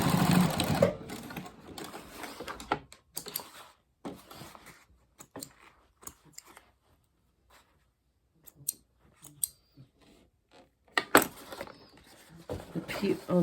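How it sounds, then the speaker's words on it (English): Sewing machine stitching a quarter-inch seam along a scrappy fabric pouch, running in several short bursts separated by pauses, close and moderately loud, with occasional soft handling noises. "I'm going to sew 1/4 inch seam allowance right here."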